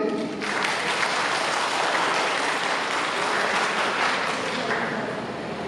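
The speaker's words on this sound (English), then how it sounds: "Yes, please, round of applause before I say anything" An audience at an education seminar gives a round of applause, a sustained, even wash of many people clapping, moderately loud and continuous throughout, fading a little at the end.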